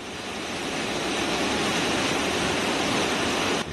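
Stigfossen waterfall at Trollstigen in Norway, a broad, steady rushing roar of falling water that rises slightly at first and then holds constant, with no voices.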